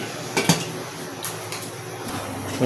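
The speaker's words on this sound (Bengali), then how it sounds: "আবার একটু ঢাকনা দিয়ে ঢেকে দেই" A metal lid set onto a cooking pot in a kitchen, with a couple of sharp clanks near the start, softer clinks after, and a faint background hiss throughout.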